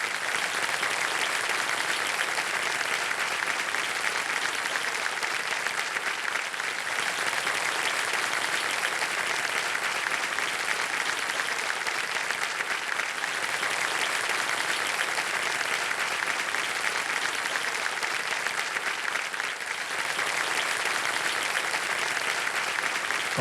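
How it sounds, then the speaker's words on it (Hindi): Sustained applause from a studio audience on a televised quiz show, steady and dense for over twenty seconds as guests are welcomed, with no talk over it. "तालियों के साथ उनका स्वागत।"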